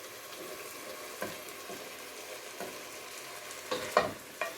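Cooked pasta being stirred into a tuna bake mixture, giving quiet scraping and soft sloshing strokes at irregular moments over a faint background, with no speech.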